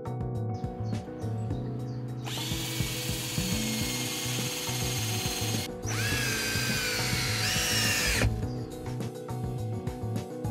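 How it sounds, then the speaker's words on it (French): A power screwdriver driving stainless screws into composite decking boards gives two sustained high whining bursts of a few seconds each. They sit over background music, and the pitch rises near the end of the second burst. "les planches de terrasse sont également fixées avec les vis alignées"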